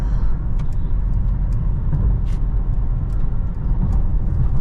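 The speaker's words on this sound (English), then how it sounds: "there is absolutely zero engine noise, just a hint of road noise" A Mercedes-Benz GLC300 4MATIC cruising at highway speed around 1400 RPM, heard from inside the cabin as a steady, loud, low road rumble and tire roar with faint higher hiss and no voices.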